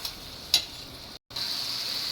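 Steady sizzling of tomatoes sautéing in a pan, with a sharp scrape partway through and a brief dropout before the sizzle resumes evenly.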